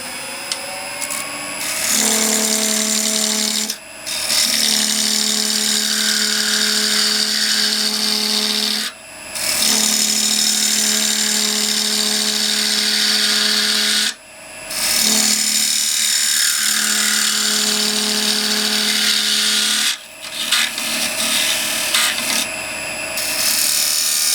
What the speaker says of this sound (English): we'll just go in with the parting tool here and we'll just refine this down. I'm running about 2000 RPM now.